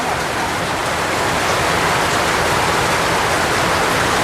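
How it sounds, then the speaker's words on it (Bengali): Heavy rain pours steadily on a rural Bengali day, a dense, loud, even hiss of water with no gaps, close and alone without any talk. "আরো তো সেই জোরে বৃষ্টি হয়।"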